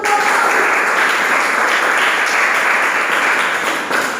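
A classroom of students claps for a group presentation, producing a dense, loud, continuous burst of applause that holds steady throughout with no voices standing out.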